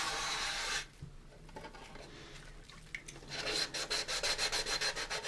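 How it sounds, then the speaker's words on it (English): Sandpaper scuffs the glossy plastic finish of an AMT 1983 U.S.S. Enterprise model kit. A soft, steady rub gives way to a rapid run of crisp, rhythmic back-and-forth strokes, close and alone. "taking off some of the smooth glossy plastic finish and adding in a little tooth for the paint to grab into"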